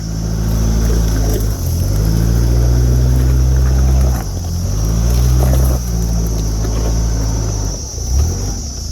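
4x4 vehicle in full four-wheel drive with its front air locker being tested, a loud, close engine drone that rises and dips in pitch over several surges, with a heavy rumble underneath and no talk.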